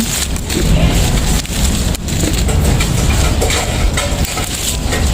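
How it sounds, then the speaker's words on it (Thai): Heavy rain falling in a continuous loud hiss and patter, close by, with no pauses. "ฝนตก"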